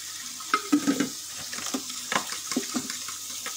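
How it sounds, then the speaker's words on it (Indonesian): Water poured into leftover spice paste in a pan while cooking crispy fried fish, with soft splashes, bubbling and stirring clicks, close and fairly quiet. "kita masukkan secukupnya, kita beri air"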